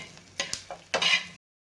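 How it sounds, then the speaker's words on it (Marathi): Cumin seeds roast in a hot, dry pan, giving a few short bursts of scraping and light crackle as they are stirred, then the sound stops abruptly. "जिरे चांगले खरपूस भाजून घ्यायचे आपल्याला पॅन गरम आहेच"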